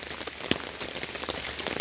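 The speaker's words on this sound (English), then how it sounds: "do we always have rain like this?" Rain falls steadily, a dense hiss of drops spattering on surfaces close by, with a few sharper individual hits standing out from the even wash.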